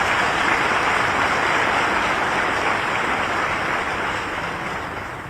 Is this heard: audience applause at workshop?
yes